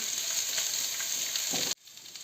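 Steady, crackling sizzle of onions frying in hot oil for an eggplant salad, close by, which cuts off abruptly near the end, leaving a quieter hiss.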